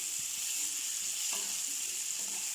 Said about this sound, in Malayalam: ഇനി നമ്മളിതിലേക്ക് അരിഞ്ഞ് വെച്ചിരുന്ന ടൊമാറ്റോയും കൂടെ ചേർത്ത് വയ്ക്കുക.